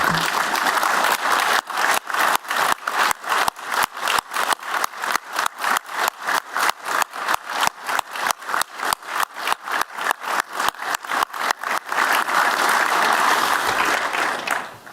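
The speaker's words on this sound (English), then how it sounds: "Let's stand, man, and give him a round of applause" A standing audience at a memorial celebration of life claps in loud, rapid rhythmic unison, the synchronized beats pulsing steadily before breaking into continuous ragged applause near the end.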